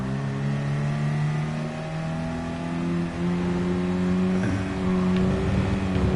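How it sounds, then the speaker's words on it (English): A Mazda Roadster's engine in Gran Turismo Sport holds a steady, fairly loud drone with rising and falling revs across about six seconds, with no voices. "obviously I haven't driven a Mazda Roadster yet in this game"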